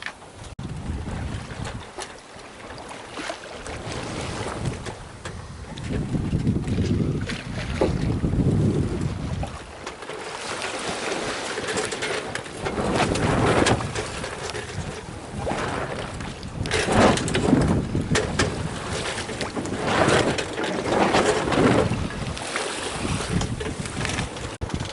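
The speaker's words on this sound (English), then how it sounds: "I'm sailing in the South Pacific." Sailboat under way alone in the South Pacific, with strong gusting wind buffeting the microphone over the rush and slap of ocean waves against the hull, loud and continuous throughout.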